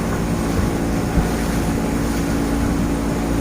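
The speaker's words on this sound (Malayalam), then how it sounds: "ഇത് 5 പഞ്ചായത്തുകൾ തമ്മിൽ ബന്ധിപ്പിക്കുന്ന ബോട്ടാണ്." Dense, steady engine drone and water wash from a passenger boat linking five panchayats, loud and close, with no voices over it.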